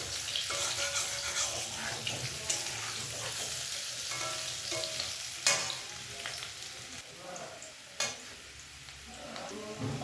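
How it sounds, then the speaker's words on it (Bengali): Potatoes frying in oil until reddish, a close, busy sizzle with crackling bursts and occasional sharp clinks of a utensil against the pan, continuous for the whole stretch. "আলুগুলো দিয়ে দিলাম। আলুগুলোকে একটু লাল লাল করে ভেজে নেব।"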